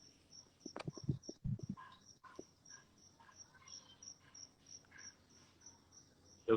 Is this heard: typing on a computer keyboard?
no